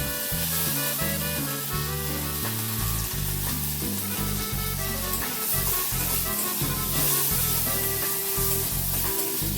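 Food sizzles and crackles steadily in hot white oil in a pan, with a loud, dense, continuous frying hiss throughout and no voices.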